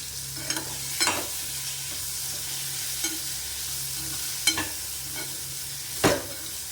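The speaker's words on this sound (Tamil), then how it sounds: "ஒரு 2 நிமிஷம் வதக்குங்க. மஞ்சப்பொடி, உப்பு, பெருங்காயம் எல்லாமே போட்டேன்." Turmeric powder, salt and asafoetida are sautéed in a pan, with a steady low sizzle under a few sharp scraping stirs of a spoon at irregular intervals, close by and with no talk.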